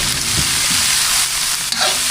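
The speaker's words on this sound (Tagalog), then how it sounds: "Gisa-gisa lang natin ito tapos ilipat po natin sa malaking kaserola para mapakuluan natin doon." Boiled pork innards sautéing in a pan, a loud steady sizzle and crackle with stirring scrapes, close up and with no voices.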